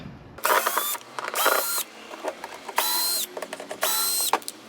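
Bolts being removed from underneath the front of a Can-Am Spyder RT with a power ratchet, four loud whirring bursts with clicking between them, close up with no talk.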